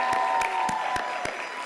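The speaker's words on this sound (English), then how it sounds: "Let's give her some applause before she performs." Scattered applause from an audience at a student celebration event, a few distinct claps spaced out over a steady low murmur, faint and somewhat distant, before a young performer takes the stage.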